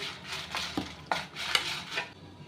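Dried red chillies with their stems removed fry and get stirred in a pan for an amla pickle spice mix, a soft sizzling hiss with several scraping strokes of a spoon against the pan, close and with no talking.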